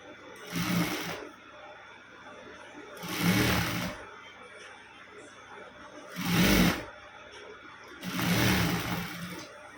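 A sewing machine stitches a closing-type cross belt without overlock, running in four separate bursts of rapid whirring with brief quiet pauses between them.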